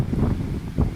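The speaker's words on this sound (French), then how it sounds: "malgré le vent." Wind gusting on a cold Finnish island beach along the coast, a steady low rumble of microphone buffeting with two stronger gusts, close and continuous, no voices.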